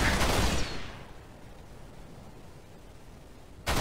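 A burst of gunfire from an Xbox One shooter opens loud and close, then gives way to a low hiss before another sharp blast cuts in at the very end.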